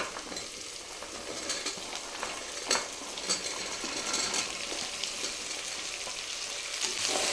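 Vegetables, including carrot and field beans, stir-frying in a hot tempering of spices crackle with a constant sizzle, punctuated by repeated scrapes and clinks of a spatula stirring the pan.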